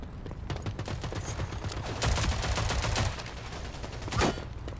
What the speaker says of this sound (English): Someone shot me from behind.